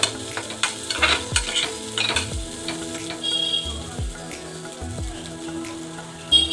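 Cabbage sautés in a pan for mushroom fried noodles, a steady sizzle broken by repeated stirring scrapes and clanks of a utensil against the pan, close and fairly loud, with no voices.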